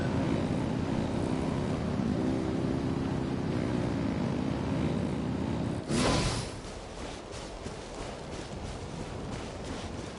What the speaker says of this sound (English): Light it up! Rev the engines!